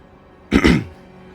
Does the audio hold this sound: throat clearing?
yes